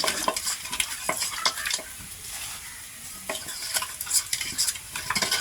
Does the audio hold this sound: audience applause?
no